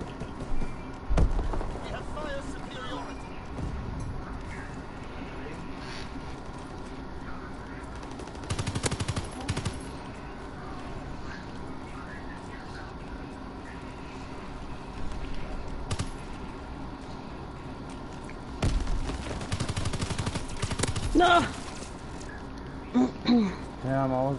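Video game gunfire with bursts of automatic fire and single shots at intervals over a constant background of game ambience, while players talk now and then.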